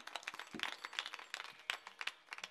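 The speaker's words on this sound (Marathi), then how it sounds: "एकदा जोरदार टाळ्या वाजवा." Clapping from an audience honouring a mridang player at a devotional kirtan gathering, a scattered burst of hand claps lasting a couple of seconds, fairly close and unaccompanied by talk.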